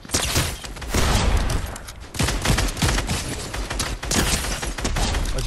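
Rapid bursts of gunfire ring out in the video game Fortnite, loud and close, coming in dense volleys with short gaps between them throughout.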